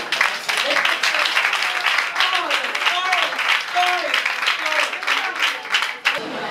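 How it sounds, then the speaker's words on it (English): Audience applause at a school foundation event, continuous loud clapping from many people with cheers and voices rising over it, steady until a brief dip near the end. "Another round of applause for that."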